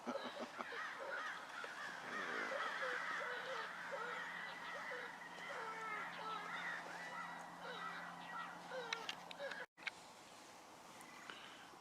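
A flock of crows caws repeatedly at a distance over a steady outdoor background during a predator hunt, with calls overlapping throughout.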